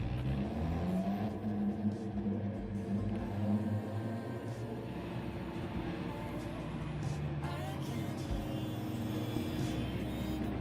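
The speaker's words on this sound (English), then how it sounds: "Right, turn the engine up a little bit." A race car engine in the Gran Turismo video game drones and whirs steadily at moderate volume, with its pitch shifting slightly as the car accelerates and holds speed, and no talking over it.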